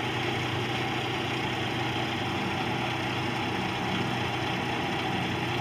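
A dump truck with a 16-foot Ox body bed and walking beam rear suspension idles nearby, a loud steady low engine rumble with constant vibration and no change in pace, no voices.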